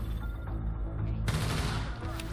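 Steady bursts of gunfire in a shooter video game, a rapid fusillade running through the whole moment and intensifying partway, loud and continuous under a dense wash of game noise.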